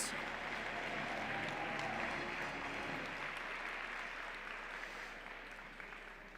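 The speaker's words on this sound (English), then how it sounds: "Let's give a big round of applause for all of our referees." Applause for the referees at a robotics competition fills a large venue, a dense steady crowd clapping that slowly fades toward the end.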